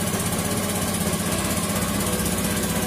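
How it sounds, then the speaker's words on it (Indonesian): A Honda Scoopy scooter engine runs steadily just after an electric start, a loud close idle with a constant buzzing drone and a slight rhythmic pulse throughout. "Nah, oke kawan, motor sudah hidup."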